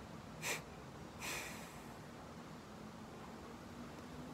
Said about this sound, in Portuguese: E a expiração forçada.